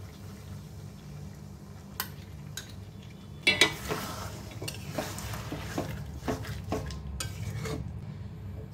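Chili chicken is stirred with sauce in a pan over a faint sizzle, with scattered utensil clinks and scrapes that grow busier midway.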